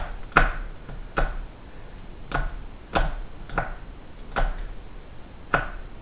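Knife chopping cold butter into pea-sized pieces on a cutting board for Welsh cakes: about eight crisp, separate thuds at an uneven pace, close and fairly loud, with no talking.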